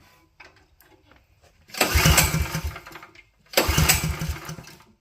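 A 7HP 212cc small engine on a John Deere 110 being pull-started. Two loud, rough cranking bursts of about two seconds each are separated by quiet, and the engine does not settle into running.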